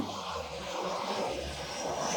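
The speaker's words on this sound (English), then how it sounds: "I'm going to let the plane go over." A propeller airplane drones overhead, a faint, steady engine hum in the distance with no voices.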